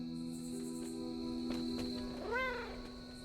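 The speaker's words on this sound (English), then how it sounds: "I just heard the cat." A cat's meow in the video game Marvel's Midnight Suns, one short rising-then-falling call heard faintly over steady tonal background ambience.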